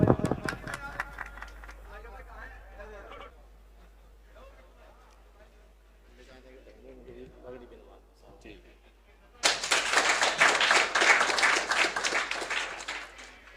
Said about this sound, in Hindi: एक बार जोरदार तालियां बजाकर रिजवान ठेकेदार का इस्तकबाल करें।